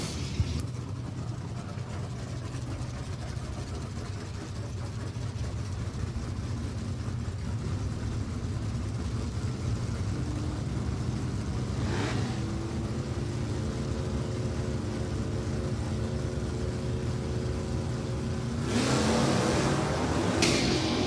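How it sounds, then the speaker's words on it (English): A Pontiac GTO and a first-generation Camaro in stock class qualifying at New England Dragway, a steady, loud engine drone across the run with two sharp bursts of acceleration late on, no voices. "GTO to take on the first-gen Camaro right now as we go in the first round of qualifying"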